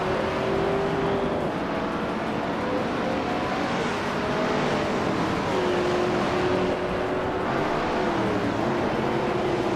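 A 1971 AMC Javelin RT race car in a racing video game holds a steady, loud engine drone that stays continuous throughout, with faint shifts in pitch as it runs at speed alone.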